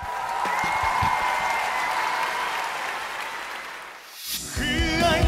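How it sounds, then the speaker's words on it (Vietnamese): A studio audience at a Vietnamese televised singing competition applauds a contestant, loud dense clapping for about four seconds that fades before music and a voice begin. "Xin mời quý vị cùng chúng tôi hãy dành một tràng pháo tay nồng nhiệt để cổ vũ."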